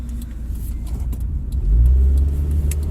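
A 1996 Honda Accord rolls slowly through a residential neighborhood, its engine hum rising into a deeper rumble as it gently accelerates, recorded from inside with light clicks and rattles and no voices.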